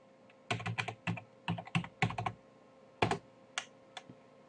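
Fingers type on a computer keyboard to enter a login name and password, with two bursts of rapid clattering keystrokes, a short pause, then a few isolated key presses, close and clear.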